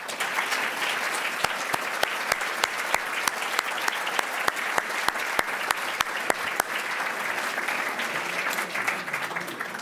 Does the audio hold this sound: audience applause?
yes